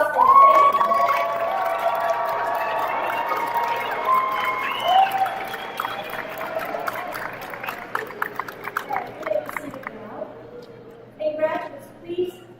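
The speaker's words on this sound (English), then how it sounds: "This is your turn to applaud and thank them." Pharmacy graduates at a Texas Tech Jerry H. Hodge School of Pharmacy commencement applaud their families. The applause is strong at first, mixed with voices and chatter, and gradually fades into scattered claps and murmuring, with a final brief swell.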